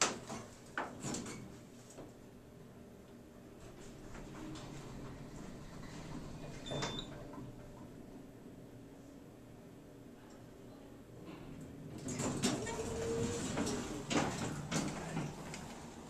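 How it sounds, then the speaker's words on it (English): A traction elevator door in a hospital slides shut slowly with faint clunks and a soft rumble, followed by a louder rattling rush of the car mechanism, quiet and muffled overall, with faint voices in the background. "And the door closed."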